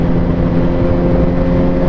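A motorcycle engine runs loud and close with a steady, throbbing hum, holding an even pitch throughout and no voices over it.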